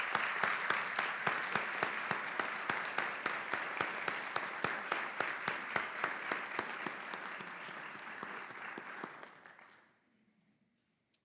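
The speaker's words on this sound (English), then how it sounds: "We want to once again show our appreciation through applause" Audience applause honoring a lifetime of service at a Founders' Day ceremony: dense, even clapping from a crowd that holds steady for about nine seconds, then fades quickly to silence.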